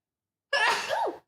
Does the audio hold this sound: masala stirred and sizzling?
no